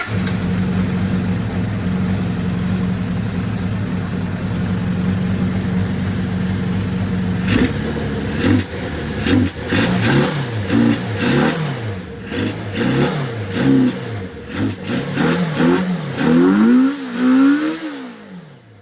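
A Suzuki GS550 motorcycle with a suspected exhaust blockage idles high and steady, then is shut off and fires back up, followed by a run of sharp, loud throttle revs rising and falling close by.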